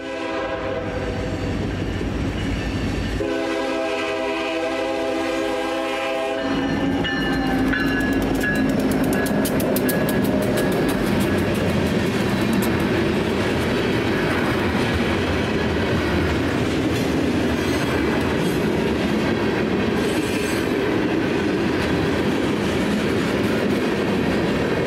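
A freight train rolls past on the Vermont Rail System, its horn blaring in a sustained chord before loud, continuous wheel and wagon rumble with rhythmic clatter close by.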